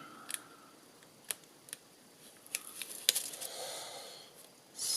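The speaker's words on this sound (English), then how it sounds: "So I'm going to trim off at that point." Scissors trim artificial greenery for a paper craft project, giving a few quiet, close snips and crisp clicks spaced irregularly against a faint background hiss.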